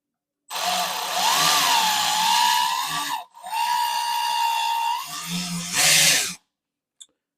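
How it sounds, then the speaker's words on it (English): An electric 1/4-inch ratchet whines loudly with a wavering motor pitch in two runs split by a brief gap, then gives a short harsher burst before stopping, and a small click follows as the socket pops off. "Yeah, again, that socket popping off"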